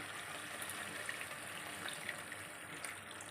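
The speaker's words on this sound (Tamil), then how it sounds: "இதில் வந்து அரை கப்பு தேங்காய் பால் இதெல்லாம் நம்ம ஊற்றுறோம்" Half a cup of coconut milk poured into a cooking curry for semiya biryani, a faint steady liquid stream running throughout with no talk.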